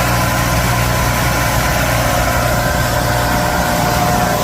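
A machine grinding a Subaru flywheel makes a loud, steady broadband roar with a continuous mechanical drone underneath, unbroken and close throughout.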